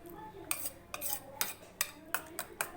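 A spoon stirs and mashes chicken soup with a drop of butter in a bowl, giving about seven sharp scraping clinks at a steady rhythm, close and fairly quiet, with no talking.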